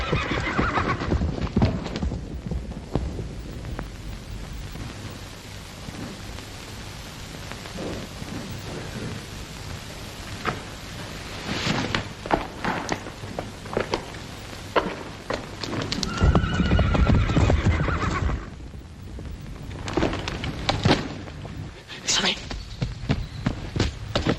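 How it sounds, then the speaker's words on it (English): Horses stampeding in a 1941 film scene: pounding gallop and clattering hooves with shrill whinnies, over rumbling thunder and rain-like noise, and voices speak at times. "Damn them horses. Stampeded again."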